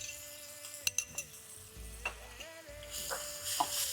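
A green paste of ground ingredients roasts in a pan with asafoetida for sabudana khichdi, giving a faint, low sizzle punctuated by a few sharp utensil clinks and scrapes over a soft steady tonal background.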